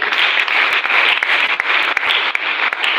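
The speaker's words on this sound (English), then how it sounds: "Round of applause once again." A crowd applauds at a youth development workshop, dense continuous clapping holding steady and loud for the whole stretch with no voices over it.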